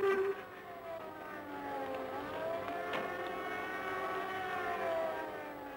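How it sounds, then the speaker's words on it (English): A distant WWII air raid siren over Moscow wails, rising and falling steadily for several seconds, sounding faint and far off over a low background rumble. "As soon as they hear the sirens,"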